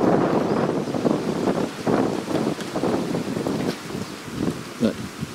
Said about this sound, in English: As we turn around, that wind noise should be pretty bad.